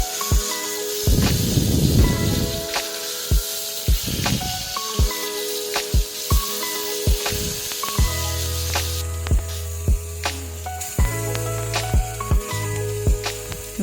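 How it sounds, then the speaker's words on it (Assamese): Fish pieces frying loosely, not crisp, in oil in a wok for a Bengali-style fish curry: a continuous sizzling hiss with surging bursts, plus frequent sharp clinks and taps of utensils against the pan. "এতিয়া মাছ দি দিছোঁ আৰু মাছ মই ইমান মানে টাইটকৈ নাভাজোঁ।"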